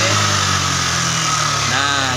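A Yamaha Aerox scooter engine runs with a steady, loud mechanical drone as it is held at mid-to-high revs, a close, continuous hum without breaks.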